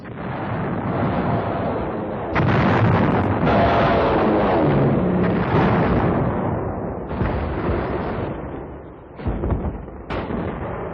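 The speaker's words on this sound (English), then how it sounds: "Rockets from mobile launchers sought out every possible enemy dugout." Heavy WWII explosions from rockets and dive bomber attacks on Saipan boom in dense succession, loud and close, with sharp new blasts breaking in over a continuous roar of detonations.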